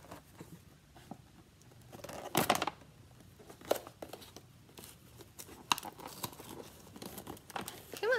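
Packing tape is torn open by hand without scissors, heard as close, scattered crinkling and sharp ripping bursts amid quieter rustling.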